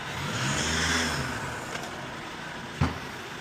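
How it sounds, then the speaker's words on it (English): A car engine runs and briefly swells as if revving outdoors, a broad steady roar near the recorder, ending with a sharp thump. "I love the noise from the car there."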